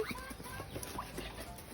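Chickens cluck softly in a garden shared with ducks and ducklings in Tanjung Sepat, low scattered calls over a steady background hiss.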